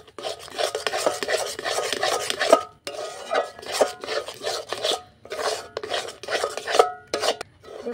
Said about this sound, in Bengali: পুরো দুধটা আমি নিয়ে নিলাম। এরপর ভালো করে মিশিয়ে নেব।